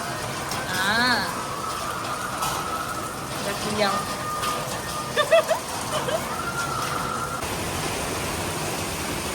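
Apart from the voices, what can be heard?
heavy rain with strong wind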